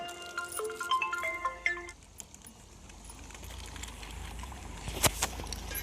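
A mobile phone ringtone plays a repeated electronic melody for about two seconds, then stops, leaving quiet indoor background with a brief clatter.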